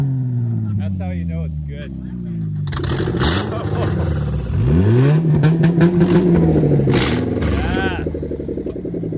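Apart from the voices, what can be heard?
demolition derby car engine revving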